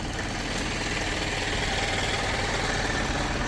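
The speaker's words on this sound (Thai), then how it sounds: "จะดับเครื่องก่อน เสียงดัง" A 109-horsepower Isuzu NKR six-wheel truck engine idles with a constant low rumble and vibration, loud and close, with no talking.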